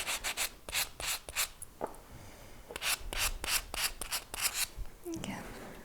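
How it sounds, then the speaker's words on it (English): A 220-grit sanding sponge rubs back and forth across the face of a bezel-set stone cufflink, giving a quick series of close, scratchy strokes in an uneven rhythm that pauses briefly near the end. "I'm just going to sand"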